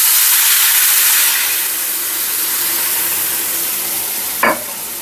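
Wine is poured into a hot pan of shrimp risotto rice, a loud broad sizzle and hiss that eases after the first second, followed near the end by a single sharp clink of a utensil.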